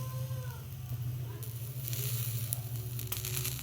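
Mixed broccoli and violet, yellow and white cauliflower tossed into a hot pan of frying chowmein noodles, a steady loud sizzle with a low rumbling hiss throughout.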